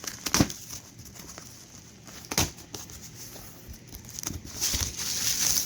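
Plastic bubble wrap packaging crinkles and rustles as it is pulled off an HO scale model train box, close up with a few sharper crackles and no talking.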